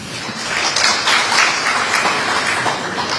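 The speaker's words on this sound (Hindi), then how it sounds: "एक बार जोरदार तालियां हमारे खास मेहमानों के लिए।" Audience applause for special guests on stage at a News18 India Chaupal 2025 event, a dense, steady wash of many hands clapping at once, loud and sustained for a few seconds with no voices over it.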